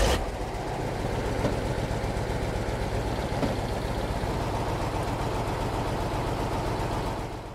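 KrAZ-256B1 Soviet dump truck with its bucket-type rear-unloading body rising on two hydraulic cylinders: a loud, steady engine drone and hydraulic whine holding constant throughout before easing slightly at the end.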